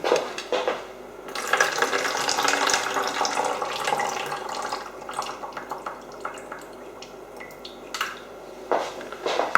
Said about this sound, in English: I'm just going to tip whatever fluids are away